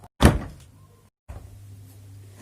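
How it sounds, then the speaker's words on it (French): A door is shut with a single solid thunk, followed by a short faint rattle. Low room hum follows, and no one speaks. "Attends, je vais fermer la porte pour toi."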